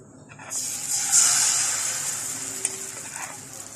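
White patishapta batter meets a hot pan with a loud, steady sizzle that rises sharply and holds, a faint scrape or tap near the end, no voices.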